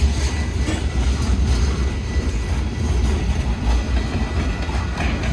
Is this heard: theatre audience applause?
no